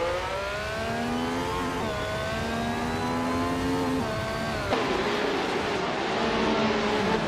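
Tyrrell 002 racing car in a racing video game, its engine whining through rising gear pitches with repeated shifts, a steady loud drone with a brief break near the end as it keeps accelerating.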